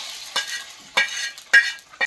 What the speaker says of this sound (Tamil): நல்லா லேசாக தாளிச்சதை வதக்கி விட்டுட்டு அப்படியே தூக்கி குழம்புல கொட்டிட வேண்டியதான்